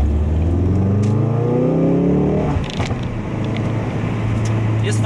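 A 2017 Ford Focus RS driving fast, its engine note climbing steadily through the revs before a brief shift, then settling into a loud, sustained drone from inside the cabin.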